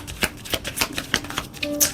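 Tarot cards are shuffled and drawn during a love reading, giving a string of soft, crisp riffling slaps at an irregular quick rhythm, close and fairly quiet.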